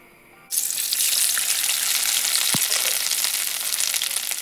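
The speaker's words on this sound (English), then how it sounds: "There goes the tempeh burger into the frying pan, into the hot oil." A cassava tempeh burger drops into a pan of hot vegetable oil and a loud, steady sizzle bursts in at once, then continues densely throughout, with a brief low thump partway through.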